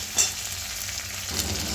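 Fish heads frying in a wok, a close, steady sizzle with two quick spatula knocks as they are stirred, no voices.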